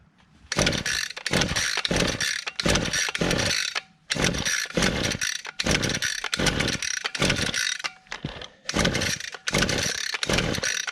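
A grass trimmer's small two-stroke engine with a newly replaced carburetor is pulled over and over, giving repeated rattling bursts as it sputters and tries to catch, with short gaps between the pulls.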